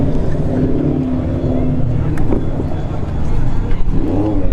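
Kawasaki ZX6 motorcycle engine droning at a street drag racing test-and-tune session at Bradenton Motorsports Park, a steady loud roar with rising whine near the end, under crowd noise and talk.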